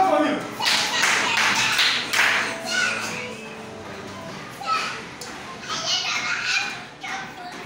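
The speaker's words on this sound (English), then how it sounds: "Clap for me." Children clap in bursts in a classroom, rhythmic rounds of small hands under lively kids' chatter and shouting, rising and falling in several waves.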